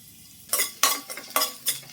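Garlic frying in a pan, with bursts of sizzle and scraping stir strokes repeating about four times in under two seconds, close and fairly loud with no voices.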